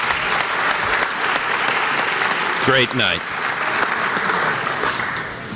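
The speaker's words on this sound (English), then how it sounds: "Let's hear a round of applause for a" Audience applause at a student-athlete awards night, dense sustained clapping throughout, with a voice briefly speaking over it midway.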